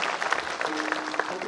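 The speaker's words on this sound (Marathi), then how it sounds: "एकदा तुम्हीच तुमच्यासाठी जोरदार टाळ्या वाजवायलाच लागला" Audience applause at a kirtan held during a women's week gathering, a steady wash of many hands clapping close by, with scattered louder claps standing out and a faint voice underneath.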